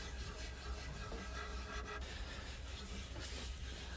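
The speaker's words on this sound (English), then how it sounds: "I'm taking a clean rag and rubbing it in a circular motion" A clean rag rubs wood stain into a pine stool in a steady circular motion, a continuous soft scrubbing swish, close and alone.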